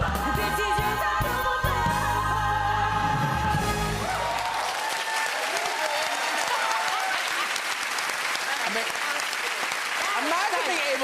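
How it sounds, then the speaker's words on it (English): A television studio audience gives a loud, sustained round of applause and cheering, a dense continuous roar of clapping that follows the end of a musical performance, with voices mixed in. "This is a round of applause."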